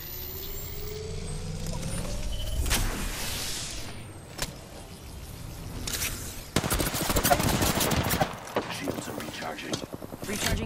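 Video game gunfire breaks out in rapid automatic bursts amid a busy mix of game effects and whooshes, loud and dense in the second half.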